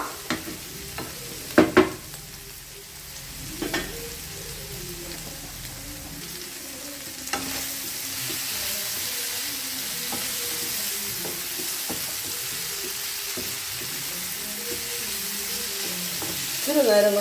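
Mushrooms frying in oil in a pan, giving a steady close sizzle with a few sharp utensil clanks from stirring early on, and the hiss growing brighter and fuller in the second half.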